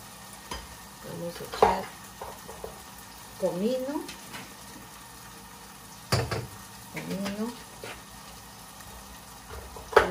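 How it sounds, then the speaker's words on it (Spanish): Onion with garlic and yellow chili pepper frying in oil in a pot, a soft low sizzle beneath intermittent stirring scrapes and clinks, with someone speaking Spanish briefly near the start. "Vamos a dejar que fría un poco la cebolla"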